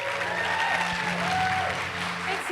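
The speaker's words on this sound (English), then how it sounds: "give a big, massive round of applause to Patricia Arquette." A crowd applauds a guest speaker invited on stage at a talk about saving the world, with a steady wash of clapping that runs continuously at moderate loudness over a low background hum.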